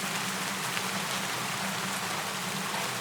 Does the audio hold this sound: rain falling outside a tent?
yes